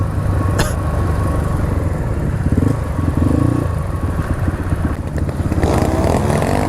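Several Honda CRF dirt bikes ride together on a dirt trail, engines buzzing and revving continuously up close, rising and falling as they pass, with clattering from the rough ground.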